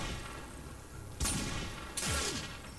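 Two sharp sniper rifle shots ring out about a second apart in the video game Warframe, each a loud broadband crack with a short decaying tail over a steady low game ambience.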